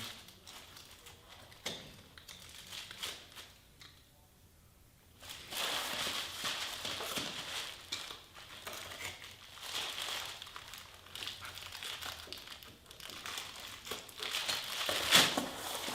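Carpet tiles being cut to fit around a staircase during a DIY install, giving a near run of scratchy, crinkling slicing and scraping noises that pause briefly and then continue steadily, with no talking.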